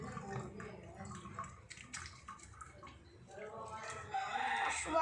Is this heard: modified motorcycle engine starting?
no